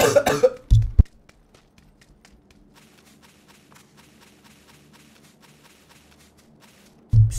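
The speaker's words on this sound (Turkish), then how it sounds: "Kusura bakmayın chat, öksürüyorum ama" A person coughs several times in quick succession, close and loud at a microphone, then goes quiet; one more cough returns at the very end over a faint background of game noise.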